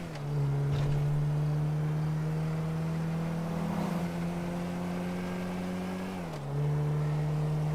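A car on a crazy taxi route up to a logging camp in GTA, its engine droning at a steady low pitch for several seconds before easing off and picking up again, close with no speech.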